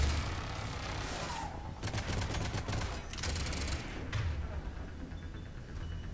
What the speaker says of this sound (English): Ah, it's dueling turrets.